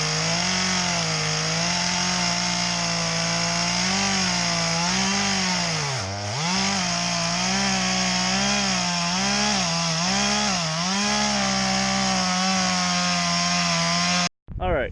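A chainsaw cuts notches into a rotten, leaning tree, its engine droning loud and close with the pitch dipping and rising as it bites into the wood, then cutting off near the end.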